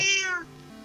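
A cat gives a single short, high meow close by indoors, cutting off quickly into quiet.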